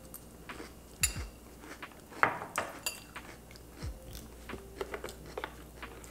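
Plain Cheerios being eaten, with soft crunchy bites and chewing, plus a few spoon clinks against a bowl, close and fairly quiet.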